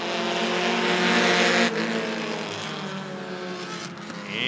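Bandits division stock cars taking the green flag for a heat race at Rockford Speedway, a loud pack of engines roaring together, then receding slightly as the field moves off, with no talk.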